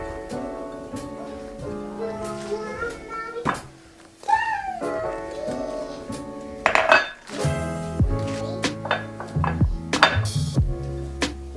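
Dishes and utensils clink and clatter in a home kitchen while treats are being made, with scattered sharp knocks and rings over a busy background, and a few brief high cat-like squeaks.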